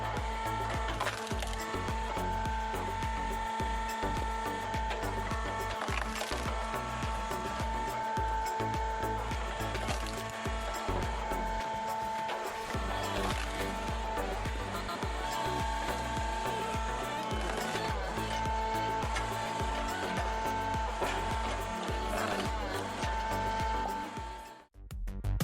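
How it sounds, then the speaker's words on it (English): Homemade horizontal hydraulic log splitter driven by a direct motor, splitting firewood: a loud, constant motor and hydraulic drone with wood cracking and splintering over it, running the whole time and cutting out at the end. "this homemade wood splitter is putting on a quite impressive performance"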